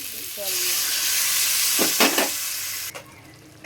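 A spiced curry in a pan sizzles loudly and steadily, then bursts into a sharper hiss as water is poured in, before dropping to a quieter simmer with a few clinks near the end.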